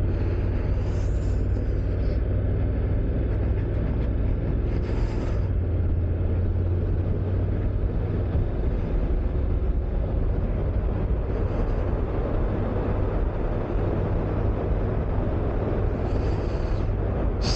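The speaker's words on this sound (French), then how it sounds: "J'adore ma moto." A 2023 Honda NC 750X DCT A2 motorcycle rolling through city traffic, its low engine rumble and wind noise constant and fairly loud, with brief higher hisses from passing traffic now and then and no speech.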